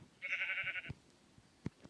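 Sheep bleating once, a clear sustained wavering bleat up close on a farm, followed by faint rustling and a couple of soft knocks.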